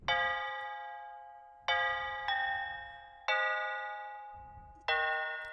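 Bright bell-like synth chords ring out in five separate strikes, each sustaining and slowly fading, with a low rumble underneath.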